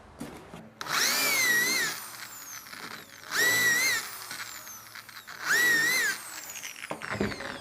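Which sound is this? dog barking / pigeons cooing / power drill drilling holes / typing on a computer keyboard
power drill drilling holes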